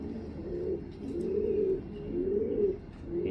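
Repeated low, rolling coos from a male racing pigeon, several throaty phrases in a row, heard up close with nothing else around.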